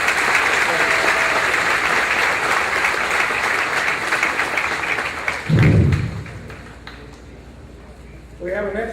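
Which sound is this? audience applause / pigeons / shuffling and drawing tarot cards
audience applause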